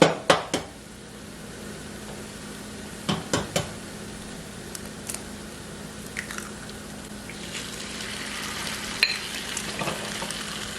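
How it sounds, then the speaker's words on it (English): Eggs cook with tortillas in a frying pan, giving a soft continuous sizzle broken by scattered sharp clicks and scrapes of a utensil stirring, with no talking. "I'm going to allow the eggs to cook in with the tortilla"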